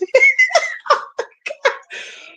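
A woman coughs in a quick, close burst of several rough hacks that trail into a breathy, laugh-like sound at the end.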